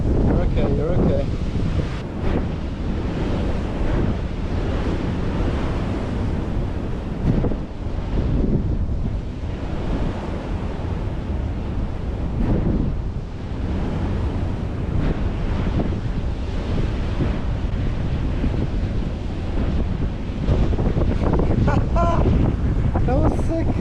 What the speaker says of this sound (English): Just want to get out of the wind.